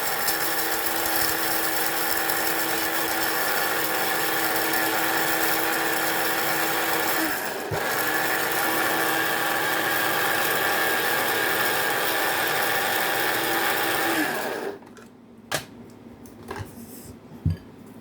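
Steady loud whirring of a blender chopping onions, running continuously for about fifteen seconds, briefly dipping once, then shutting off to quiet clatter.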